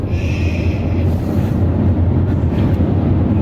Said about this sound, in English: not a sound except for the wind and the tires lighting up in that case